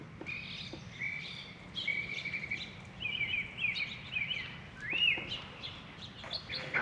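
Several birds sing and chirp in bright, varied phrases over a low steady background hum along the Carquinez Strait near Crockett and Port Costa, close and clear with no talking.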